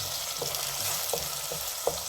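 Curry mee base of spices frying in oil over medium heat for Malaysian laksa, a constant close sizzle broken by several soft scrapes as a utensil stirs through the pan, no talking.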